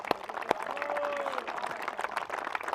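Crowd at a T10 cricket finals day applauding batsman Naushad Babu after 420 runs, scattered clapping heard at a distance with a couple of sharper nearby claps and a faint whistle-like tone.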